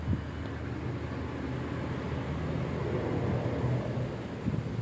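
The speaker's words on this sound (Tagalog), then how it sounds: "Mahangin, no, gar?" Gusty wind blowing outdoors at an open-air spot where pig is roasted over fire ahead of a storm, a steady broad rushing roar buffeting the microphone throughout, with no voices over it.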